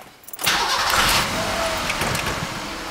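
A Ford car engine cranks briefly and catches, then settles into a steady idle, close by and fairly loud with no voices.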